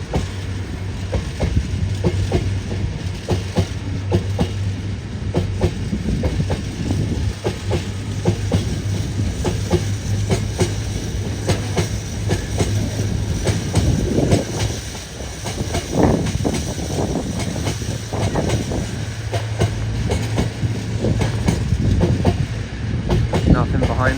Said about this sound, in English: that 66 down there will be our final train of the day